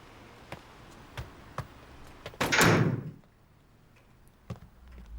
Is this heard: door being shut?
yes